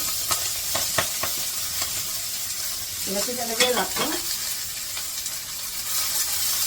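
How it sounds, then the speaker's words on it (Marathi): Cumin seeds crackle and sizzle steadily in hot oil, with scattered pops; someone speaks briefly partway through. "हे जिरं चांगलं तडतडू देते"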